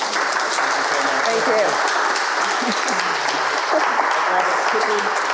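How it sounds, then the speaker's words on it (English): Listeners at a talk for creative professionals give a round of applause. The clapping is steady and full for several seconds, and a voice briefly speaks over it. "Round of applause, guys."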